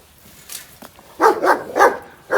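A friendly dog barks close by at a train repair station, four or five quick, moderately loud barks following some faint rustling, with no talking over them.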